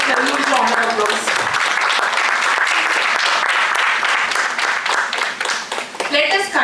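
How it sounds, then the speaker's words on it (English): A large audience at a GST Day celebration gives a loud, sustained round of applause to welcome dignitaries. The clapping stays thick throughout, with brief tonal sounds and a few voices surfacing near the end. "please welcome them with a huge round of applause"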